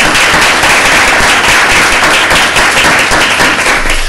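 A family cheering section at a school board meeting gives loud, dense, continuous applause, close and unbroken, welcoming a new middle school assistant principal.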